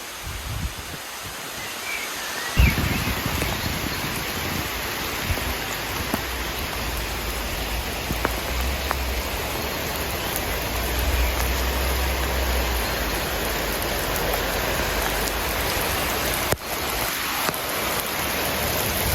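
A heavy rain downpour pours outdoors while walking through town, a dense, loud, unbroken hiss of falling water that fills the whole stretch with no voices.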